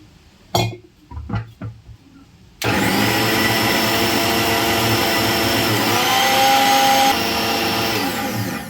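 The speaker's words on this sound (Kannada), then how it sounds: "ನೋಡ್ರಿ ಮಿಕ್ಸರ್ಗೆ ಹಾಕೊಂಡಿದ್ದೀವಿ" A kitchen mixer grinder starts abruptly after a few scattered clinks and handling knocks, then runs loud and steady with a whining motor drone that shifts slightly in pitch near the end.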